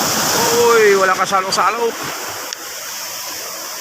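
Ocean surf at a beach in Barangay Bukana, a broad steady wash of breaking waves with a rushing hiss, while a person talks briefly over it early on.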